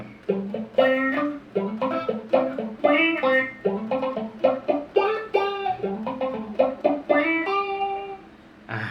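Choppy, funky electric guitar notes with a quacky, wah-like envelope filter sweep from a Line 6 M13, played in a busy rhythm throughout.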